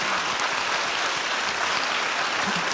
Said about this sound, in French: on peut vous applaudir, effectivement.